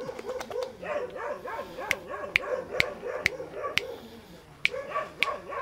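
A close stray dog gives a steady run of short barks and yips, punctuated by sharp intermittent clicks, with no talking.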